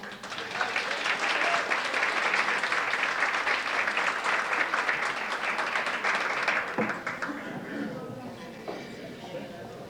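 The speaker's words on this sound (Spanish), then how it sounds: "Otro aplauso, por favor." Sustained audience applause at a school award ceremony, a steady wash of clapping from a crowd for about seven seconds before fading out as a voice begins speaking.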